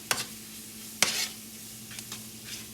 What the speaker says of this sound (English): so you just keep turning them around in here until they brown just a little bit